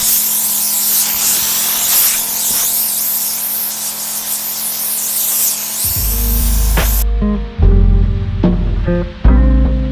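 An orbital sander with 120-grit paper runs over a live-edge wood and epoxy countertop: a steady, loud, broadband whirring hiss for about six seconds, then a lower motor rumble with a few sharp knocks.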